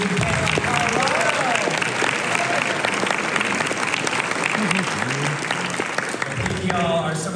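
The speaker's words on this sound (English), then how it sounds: "one final round of applause for our amazing panel in Colorado" Audience at a psychedelic science conference session on Colorado policy gives the panel a sustained round of applause, dense steady clapping filling the room from start to finish, with faint voices mixed underneath.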